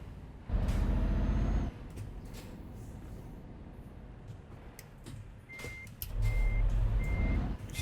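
A truck reverses in the video game Euro Truck Simulator 2: heavy engine rumble swells in two bursts, a faint air-brake hiss in between, and a short series of evenly spaced reversing beeps near the end.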